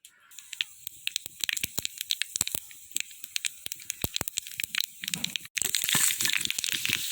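Mustard seeds, dried red chillies and curry leaves hit hot oil, giving a dense crackle of sharp pops and spits that swells into a loud, hissing sizzle near the end.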